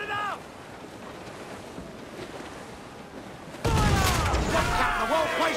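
Ship cannons in Assassin's Creed IV Black Flag erupt in a sudden loud, broad volley midway through, ringing on with crackling debris over a steady bed of wind and ocean wash from the earlier quiet stretch.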